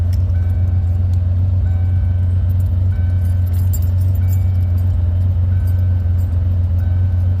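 A car engine runs steadily at idle throughout, a loud, even low drone with a faint metallic jingle on top and no voices.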